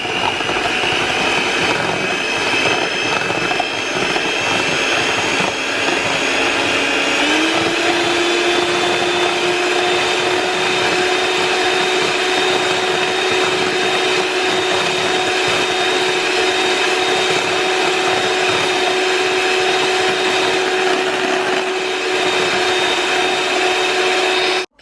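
An electric mixer on low speed churns gluten-free butter cookie dough with egg, giving a steady whirring motor hum that shifts slightly higher partway through and runs unbroken throughout, close and loud, with no speech.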